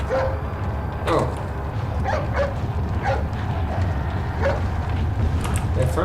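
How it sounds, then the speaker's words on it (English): A dog in the Resident Evil 4 video game gives a few short yips and barks, spaced irregularly over a loud, steady low rumble of game ambience. "Hey, it's that dog."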